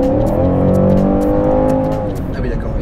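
A 2021 Alpina B5 Touring pulls hard at full throttle, its engine a loud, close, steady drone that rises only slightly across a few seconds, heard from inside the car with no talking.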